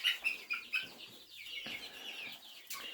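Lavender Americana chickens cluck and chirp close by in a few short bursts, with faint rustling and a quiet farmyard background.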